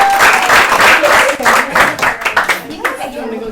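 An audience at a magic show breaks into a short burst of dense applause that quickly fades, with a voice speaking near the end.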